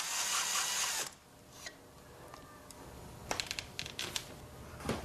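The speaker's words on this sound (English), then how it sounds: "Hold the tenon cutter steady, leaning into the wood, go at a moderate speed." A tenon cutter bites into a rustic furniture stick, starting with a loud grinding burst for about a second. Quieter scraping follows, then sharp clicks and knocks near the end.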